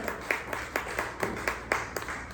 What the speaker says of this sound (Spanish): round of applause to the Lord Jesus Christ